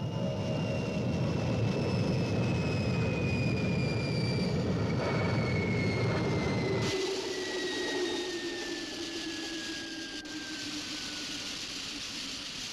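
The Fireball XL5 spacecraft's engines during landing in the science-fiction series, a loud continuous roaring drone with a descending whine that drops to a lower, quieter hum partway through.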